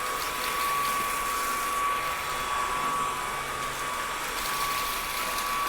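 A Levoit cordless vacuum cleaner runs on carpet in standard mode, giving a steady, fairly quiet whirring drone with a faint high motor whine and no pauses.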